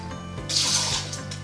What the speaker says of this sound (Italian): Io verso una parte di riso, come questa, nella pentola, e due parti di acqua.